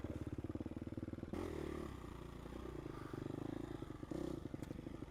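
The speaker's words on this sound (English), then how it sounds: "I really don't like the way the bike is sounding when it stalls. Almost sounds like engine knock." Gas Gas EX250F four-stroke dirt bike engine chugging in rapid, knocking pulses, then faltering and stalling with a clattering shudder, sputtering briefly again near the end, close by and without talk.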